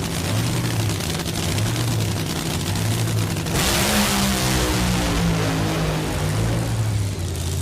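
Ron Capps' Napa Toyota Funny Car makes a solo drag run at the DENSO Sonoma Nationals, a loud idling rumble bursting into a roaring, crackling launch whose pitch climbs then wavers, with no one talking.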